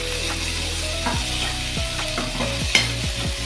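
Onions sautéing in a pan sizzle steadily while a spatula stirs in repeated scrapes and knocks, one sharper clink near the end, and no one talks.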